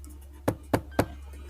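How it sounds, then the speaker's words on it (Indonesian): Three distinct knocks on a house door, evenly spaced and fairly close, sharp single raps over a quiet low hum, with no voices. "Saya ketok lagi."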